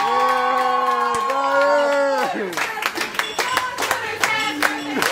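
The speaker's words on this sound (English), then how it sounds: "Let's give him a round of applause." A crowd at a Hooters restaurant in Chicago claps for a friend's 21st birthday. Sustained voices cheer at first, then a burst of scattered, sharp clapping follows as shouting continues.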